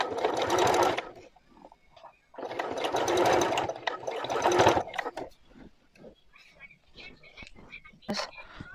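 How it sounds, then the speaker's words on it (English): A sewing machine stitches one-piece trouser fabric in three sustained, whirring runs separated by short pauses, followed by soft handling noises and quiet whispering. "let me sew it round"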